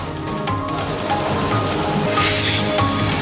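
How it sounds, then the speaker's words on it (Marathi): Dense, steady rain pouring down with a gusty rushing wash, loud and continuous, with no voices. "वादळी वाऱ्यासह मुसळधार पावसानं जोरदार हजेरी लावली"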